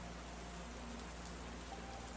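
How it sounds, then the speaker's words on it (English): Steady rain falls at night in a continuous, even wash with no distinct drops standing out, soft and distant. "The rain spirits are blessing us tonight"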